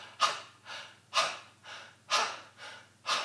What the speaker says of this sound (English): I'm breathing in between each exercise